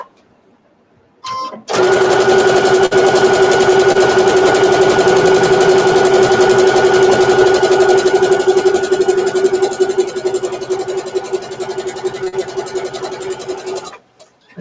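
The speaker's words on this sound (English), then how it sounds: "so I've done my stitching across" After a short start-up, a sewing machine runs steadily for about twelve seconds while stitching a fabric bowl mitt, a loud close whirring hum with fast needle chatter, then it stops abruptly.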